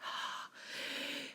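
A voice imitates heavy monster panting: two long, breathy, rasping exhales close to the mic, with a short pause between them.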